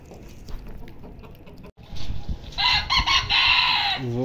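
Polish hens cluck and a rooster crows nearby, loud and continuous, with a brief scuffle and a short gap partway through.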